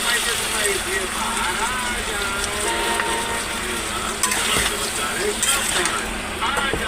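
A ground mixture with dried red chillies poured into a hot pan for green banana kofta, giving a loud, steady sizzle and bubbling crackle with a few sharp spatters and knocks.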